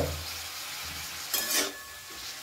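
Spinach ghonto being stirred in a pan, a soft low sizzle broken by a short burst of scraping and stirring midway, with a brief clatter at the end.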